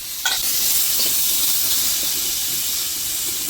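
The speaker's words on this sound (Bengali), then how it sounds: "আলুগুলি ভাজার জন্য দেবো একটু হলুদের গুঁড়ো" Potatoes coated with turmeric and salt fry in hot oil, giving a steady bright sizzling hiss with a few soft stirring clinks near the start, close and without talk.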